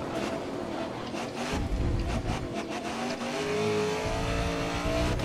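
A right-hand-drive race car in GRID Autosport on the Algarve circuit, its engine revving and shifting loudly with tire squeal and rising acceleration over several seconds, no talk.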